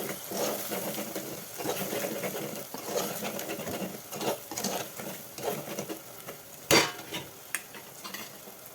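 Spices such as chilli powder and coriander powder stirred into fish curry in a sizzling pan, a steady scraping, shuffling rhythm over frying hiss with a few sharper clinks near the end.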